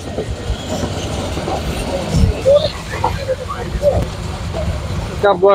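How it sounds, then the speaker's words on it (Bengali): Kalni Express passenger train rolling along the rails through open green fields, a steady close rumble of wheels and carriages with a few squeals and clacks, rising briefly near the end. "এই মাঠ ঘাট সবুজ প্রান্তর পেরিয়ে আমাদের ট্রেন ছুটে চলেছে শায়েস্তাগঞ্জের দিকে"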